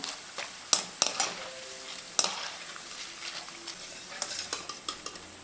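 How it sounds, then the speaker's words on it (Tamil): Tapioca chips frying in hot oil while being stirred and turned, with sharp utensil clinks and scrapes against the pan over a soft, steady sizzle. "மாதிரி நல்லா பெரட்டி பெரட்டி விடுங்க அப்போ தான் நல்லா ரெண்டு பக்கமும் வேகும்"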